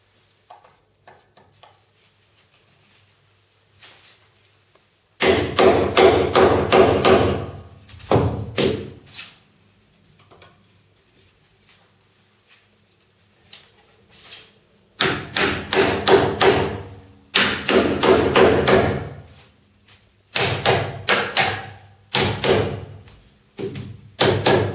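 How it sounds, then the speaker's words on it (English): Wooden stretcher bar frame pieces with male and female joints being slotted together by hand, giving repeated knocking thuds and taps in clustered bursts separated by quiet pauses. "Step one, assemble the frame. A male and female joint, slot together, none to glue or screw."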